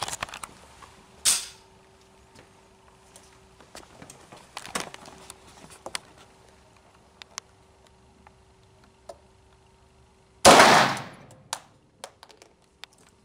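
Gunshots ring out at a shooting club as someone fires at a target: three sharp, loud blasts spaced a few seconds apart, with faint clicks and handling noise between them.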